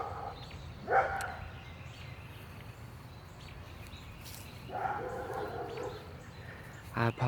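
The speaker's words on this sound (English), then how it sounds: "I apologize for the dogs." Dogs bark a few times at a distance during a garden walk in early June, short faint yaps over steady outdoor background noise.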